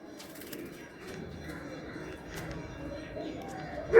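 Big Amarshira pigeons in a loft coo softly with occasional wing flutters, faint and close, under men chatting.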